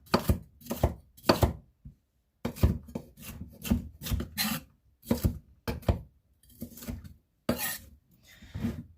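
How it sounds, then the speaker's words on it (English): A knife chops capsicum into small dice on a cutting board for a salad bowl, a close, loud run of quick rhythmic strokes broken by short pauses, with no talk. "or to make it easier to eat, you can cut it into little dices"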